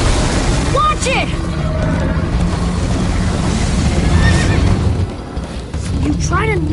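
A horse whinnies in the Minecraft Story Mode video game during a chase, several rising and falling neighs over rumbling game sound and background noise, with speech-like voices mixed in.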